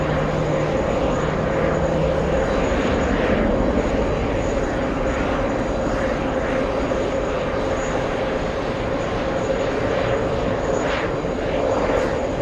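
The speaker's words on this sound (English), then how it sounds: "JetBlue 602 flying in from Fort Lauderdale." A JetBlue jet airliner arriving at JFK from Fort Lauderdale roars in with a loud, steady engine drone that fills the air continuously at an airport hotel poolside.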